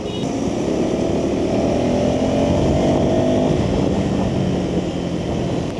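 A 2026 KTM 390 Adventure motorcycle engine, 350cc, drones and roars steadily up close for several seconds, with a faint rising tone suggesting throttle building in off-road mode.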